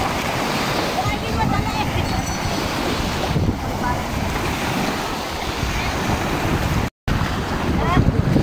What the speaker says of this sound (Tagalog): Wow, dagat. Ito ang dagat.